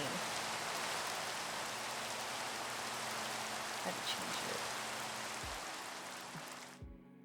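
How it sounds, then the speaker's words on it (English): Steady rain falls in a Minecraft Java world, a dense even hiss that stays loud and close throughout before cutting off at the end, with a brief spoken line over it. "Oh, it started raining."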